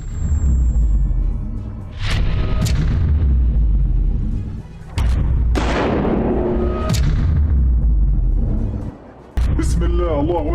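Several heavy gunshots from a sniper in a Hamas attack on an Israeli soldier, each a sharp crack with booming rumble, spaced irregularly over a constant low roar, with voices audible in between.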